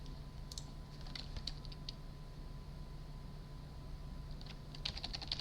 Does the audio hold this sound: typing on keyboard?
yes